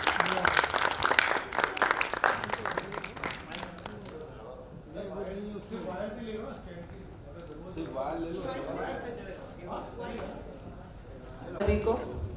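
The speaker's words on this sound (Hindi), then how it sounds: "मैं चाहता हूँ तालियों से आप उनका इस्तकबाल करें।" Audience applause welcoming a poet at a mushaira held in memory of APJ Abdul Kalam: dense clapping for about four seconds, then fading into murmuring crowd noise with a brief burst of clapping near the end.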